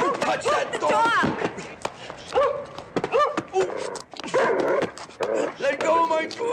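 A dog barks and whimpers amid a chaotic 1977 film scuffle, its sharp yelps mixed with loud, overlapping shouting voices throughout.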